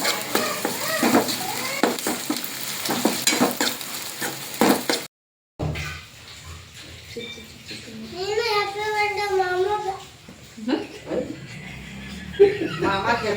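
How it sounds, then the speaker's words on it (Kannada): Green chillies and garlic paste fry in a pan for gobi manchurian, a soft sizzle with occasional stirring scrapes, heard after a stretch of talk and a brief silent gap, with voices and a child's speech around it. "ಪೂರ್ತಿ ಕಲರ್ ಚೇಂಜ್ ಆಗುವವರೆಗೂ ನಾವು ಫ್ರೈ ಮಾಡ್ಕೋಬೇಕ್ರಿ."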